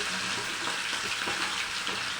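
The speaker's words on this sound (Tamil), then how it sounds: "நான் மீன் பொரிச்ச எண்ணெய் இருந்துச்சு, அதுலேயே தான் பொரிக்கிறேன்." Small fish frying in reused oil that previously fried fish, giving a steady, soft, dense hiss and crackle with no talking.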